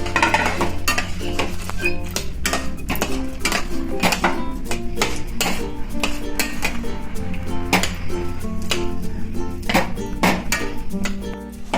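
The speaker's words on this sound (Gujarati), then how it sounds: "તો આપણે એને બી નાખી દઈશું" Peanuts are stirred into hot sugar syrup in a pot for peanut chikki, producing constant dense clattering and scraping with frequent sharp metallic clinks, loud and close throughout, with a steady low hum under it.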